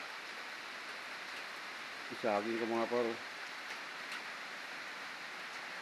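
Rain falls steadily during the rainy season, a continuous broadband hiss throughout, while someone speaks briefly over it near the middle.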